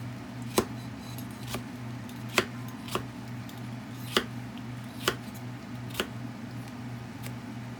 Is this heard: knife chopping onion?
yes